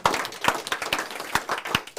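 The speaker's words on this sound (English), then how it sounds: "everybody give them a round of applause" A short round of applause and clapping from a gathered audience honoring medical professionals, with individual sharp claps standing out from a steady patter across the whole stretch.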